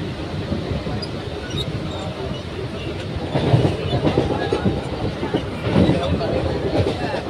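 A crowded local train running, with a steady rumble and rhythmic clickety-clack of wheels on rails from inside the carriage, and a murmur of passenger chatter underneath.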